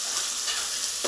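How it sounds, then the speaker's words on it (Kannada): Capsicum frying in a pan in a home kitchen gives a steady, close hiss and sizzle, with a brief stirring scrape near the end and no voices. "ಈಗ ಫ್ರೈ ಮಾಡಿ."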